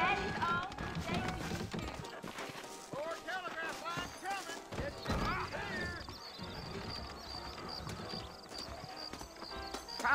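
Horse hooves clip-clop at a steady trot alongside snorts and a whinny in Red Dead Redemption, with a voice talking intermittently over the movement.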